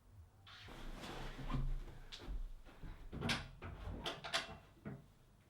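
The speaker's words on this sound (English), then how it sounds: "Smokey, stop scratching at the door." Pet named Smokey scratching and bumping at a door, irregular soft scrapes and thuds in a quiet room, several short bursts spread over a few seconds with no talking.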